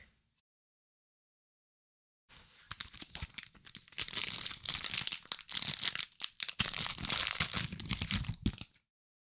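Crinkly plastic wrapper of a Magic the Gathering March of the Machine booster pack being torn open and crumpled up close, a dense stretch of ripping and crackling after a couple of seconds of silence, with no talking.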